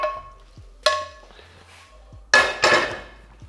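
Chicken wings tossed in a honey lemon pepper sauce inside a metal bowl or pan, giving a few sharp clanks and scraping clatters in separate bursts, loud and close with no talking.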